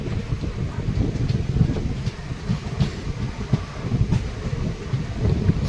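Mayurakshi Express pulling out of Ambajora Shikaripara station on a hilly forest line, giving a steady low rumble of rolling wheels with faint rhythmic clatter and wind noise, continuous and fairly close.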